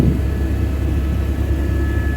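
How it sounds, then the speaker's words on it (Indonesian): A helicopter in flight on a sightseeing tour to Mount Everest in Nepal, a steady loud rotor and engine drone heard from inside the cabin, with no talk. "perjalanan helikopter ini akan membawa kita untuk mendarat di bawah kaki Kalapatar"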